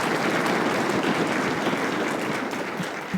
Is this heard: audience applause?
yes